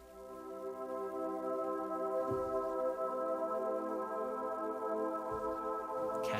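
A soft, airy Reverie choir pad from the Anthem Choir library drones steadily on one sustained chord, quiet and even throughout with a faint shimmer.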